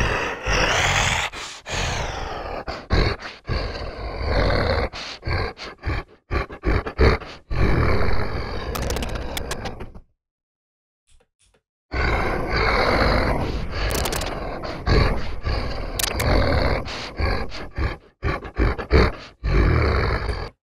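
A human voice run through the Dehumaniser plugin for a zombie effect, producing harsh growling roars and groans in repeated bursts with a short silent gap midway, settings tweaked live so the texture shifts, loud and close.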